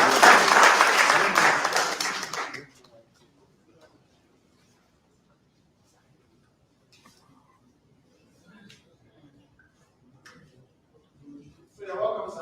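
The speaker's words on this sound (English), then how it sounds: "Please, a round of applause for me" Applause from the crowd at a party's presidential primary in Abuja, a loud burst of clapping for about two seconds that quickly dies away into near silence, with faint murmurs and a voice returning near the end.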